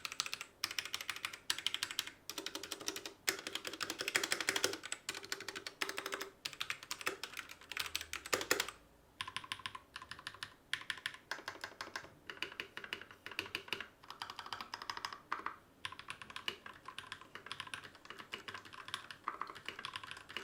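Rapid, continuous keystrokes on a Royal Kludge RK68 mechanical keyboard, heard up close with clacky key presses in an uneven typing rhythm and a brief pause midway, and no voices.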